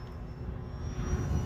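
An airplane engine in a flight simulator game drones steadily, a loud continuous rumble with a faint thin whine above it, alone without speech.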